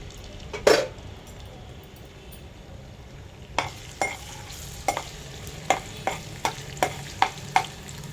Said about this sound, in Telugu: అల్లం తురుము వేయించుకుందాం దీంట్లో నూనెలో